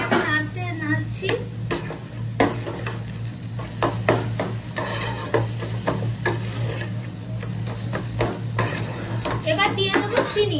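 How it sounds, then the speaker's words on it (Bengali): Red amaranth greens are stirred in an uncovered pan while cooking, with a spatula scraping and tapping against the metal in irregular strokes over a low sizzle and a steady hum. "এই যে ঢাকনাটা সরিয়ে ফেলেছি আর এটাকে নাড়ছি।"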